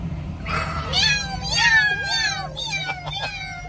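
A voice imitates a cat, giving several rising and falling meows in quick succession, with a few shorter mews trailing off at the end.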